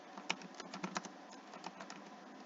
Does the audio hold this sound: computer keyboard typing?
yes